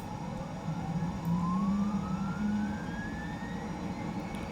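A Hawk T1 jet engine in Microsoft Flight Simulator 2024 spools up during startup, a steady whine rising slowly in pitch over a low, even rumble, with no talking.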